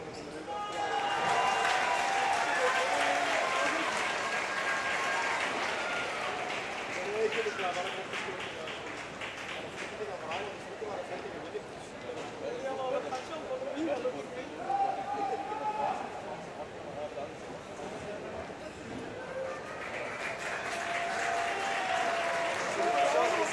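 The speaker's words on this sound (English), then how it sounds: "So the players now being applauded as they leave the arena." Spectators at a wheelchair para table tennis match applaud as the players leave the arena, steady crowd clapping at a distance with arena murmur and a commentator talking over it throughout.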